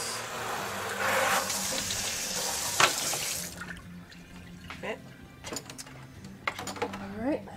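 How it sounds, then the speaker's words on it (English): A cutting board rinsed under a running kitchen tap: a loud hiss of flowing water for about three seconds, then quieter clatters and drips as the tap stops, with a person talking nearby. "give that a rinse."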